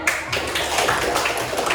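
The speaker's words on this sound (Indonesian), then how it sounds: "tepuk tangan" A class claps hands during a coding and artificial intelligence lesson, dense steady clapping from many children, close and moderately loud for a couple of seconds.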